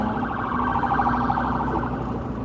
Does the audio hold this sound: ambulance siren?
yes